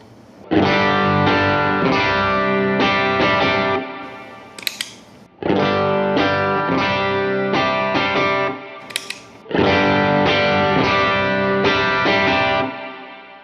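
An electric guitar through a Super Bolt overdrive pedal with a little reverb plays three long, sustained chord phrases, each ringing loud and thick before brief pauses with pick scrapes.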